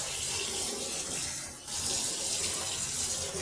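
Running tap water splashes over Malabar spinach leaves as they are rubbed clean by hand, a steady near rush of water that dips briefly midway, with no voices.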